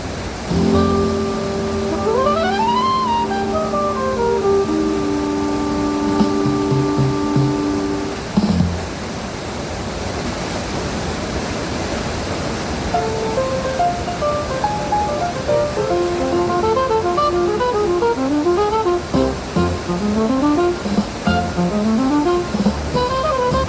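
Mo Paeng waterfall in Pai, Thailand, gives a steady broadband rush of falling water throughout, with melodic music playing over it.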